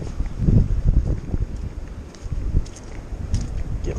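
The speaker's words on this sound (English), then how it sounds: "it might be a little too windy today to be doing this" Wind gusting beside a snowy river, buffeting the microphone with a low, uneven rumble that swells and eases over a few seconds, with no voices.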